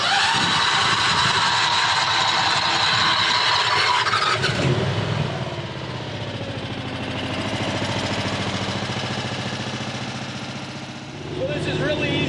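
Plymouth rail car engine with a new ignition switch, first a loud rough running racket, then it drops to a steadier throbbing idle that swells and fades slightly, with a voice talking over it.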